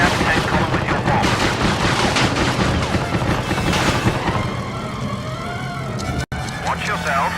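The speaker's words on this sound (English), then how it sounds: "Watch yourself. Enemy fire is no joke." Enemy gunfire in the PS2 World War II flight combat game Secret Weapons Over Normandy, a loud, continuous barrage of shots and explosions layered with engine roar and game effects, briefly cutting out near the end.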